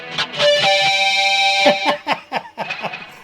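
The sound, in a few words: electric guitar with heavy distortion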